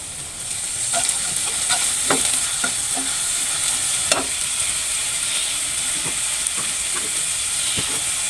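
Fish frying in a pan as garlic paste is added and stirred, a continuous hiss of sizzling oil punctuated by scattered scraping and tapping of a spatula against the pan.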